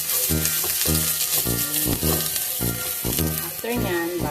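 Onion sautéing over medium heat in a pan for ginisang Baguio beans with chicken breast, giving a steady, close sizzle and frying hiss throughout, with music playing over it.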